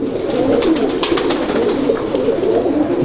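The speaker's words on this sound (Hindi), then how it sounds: "ये मियाँ साहब वाले डब वाले कबूतर हैं जी" Dab pigeons coo softly and repeatedly at close range, a low throaty burbling that runs continuously over a light background hiss.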